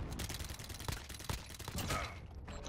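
In the video game Gun Runner, an enemy sentry gun fires a rapid, sustained burst of automatic shots, dense and fairly loud, with a few sharper cracks standing out.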